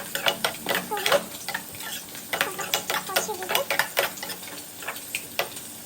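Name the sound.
stirring and frying rui fish curry with brinjal in pan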